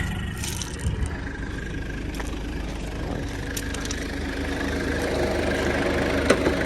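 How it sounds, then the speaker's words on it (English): A 1996 Mitsubishi Delica L400 Chamonix Edition 4x4 with a turbo engine idles steadily, a close, even mechanical drone with a low rumble and some turbo hiss that carries on without pause. "You hear that turbo,"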